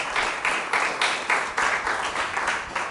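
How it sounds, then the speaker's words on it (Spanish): A church congregation claps for the preacher in loud, rhythmic waves of clapping at a steady beat, with no voices over it. "Dame un aplauso al que nos va a hablar en esta mañana poderosamente"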